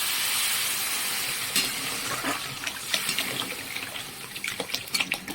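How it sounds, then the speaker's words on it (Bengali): Water pours into a pot of fried lentils for Bengali masoor dal, a steady close rushing hiss with a few small splashes and clinks near the end. "ডালগুলো ভালো করে একটু ভেজে নিলাম এবার জল দিয়ে দেবো"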